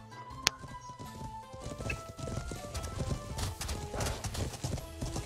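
Horse hooves clip-clopping in the medieval video game Life is Feudal, a quick run of soft, irregular hoof thuds amid battle ambience, with a sharp click near the start and a faint whinny-like tone.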